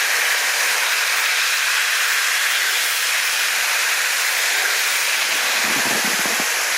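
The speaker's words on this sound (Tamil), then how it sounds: "பூண்டு போட்டு எண்ணெயில் வதங்கின உடனே இந்த லெமன் ஜூஸ் கூட ஊற்றிடும்." Lemon juice poured into hot oil over sautéed garlic for a lemon garlic thokku, giving a loud, steady broadband hiss of sizzling that holds throughout, with a few brief lower crackles near the end.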